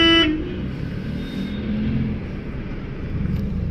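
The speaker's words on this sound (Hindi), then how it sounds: "और ट्रैफिक देखिए आप कितनी है" Early-morning road traffic on a route near Bisalpur, a brief car horn toot at the start over a continuous broad rumble of passing vehicles, fairly loud and close, with no one speaking.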